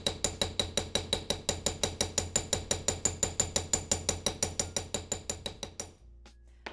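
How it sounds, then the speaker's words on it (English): A ball peen hammer strikes metal in a fast, even series of about thirty ringing taps, texturing a jewellery metal sheet, loud and close, before stopping abruptly. "But just from hammering that"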